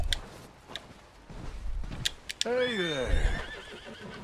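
A lone white Arabian horse in the video game Red Dead Redemption 2 lets out a clear, descending whinny partway through, following soft clip-clop ticks and ambient game noise, with a voice talking faintly underneath.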